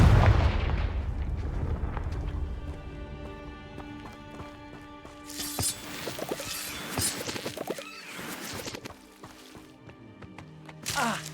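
Confringo, an explosive spell in Hogwarts Legacy, goes off as a few sharp bursts in the middle and at the end, over a quieter bed of game ambience and music with faint voices.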